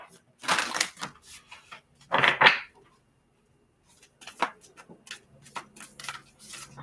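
Tarot cards being shuffled in short papery bursts, a few close riffles separated by pauses, with a voice speaking at times.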